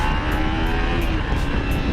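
A Kawasaki Ninja 250 FI motorcycle engine holds a high-RPM rev, a loud, steady, close buzzing drone across the whole short stretch, with no talking.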